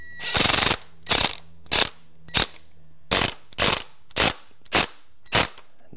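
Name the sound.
screws being driven into exterior door threshold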